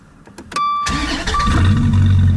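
A supercar engine cranks and fires up, revving loudly into a deep, throaty idle after a brief starter whine, close by.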